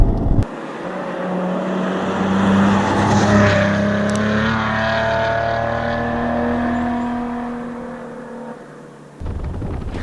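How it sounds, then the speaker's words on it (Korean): Maserati Ghibli S Q4 at speed on the road, a steady, sustained engine and exhaust drone with slowly rising tones, moderately loud and continuous, with no talking. "환상적인 그 배기 사운드를 즐기면서 어떤 그 고속 주행을 만끽할 수 있는"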